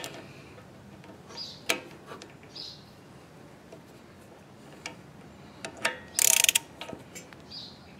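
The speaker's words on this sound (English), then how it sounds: "we'll tighten it to 15 foot-pounds or 20 newton meters." A torque wrench tightens a bolt on a John Deere D105 riding mower, giving scattered close ratcheting clicks and ticks, then a louder rasping burst near the end, with no talk.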